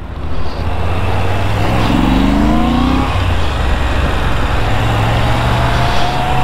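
Moto Guzzi V7 Stone motorcycle engine running on the road, a loud, close engine drone whose pitch climbs and shifts as it accelerates, with a steady rumble underneath and no talk over it.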